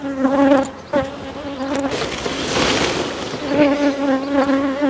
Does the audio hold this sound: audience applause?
no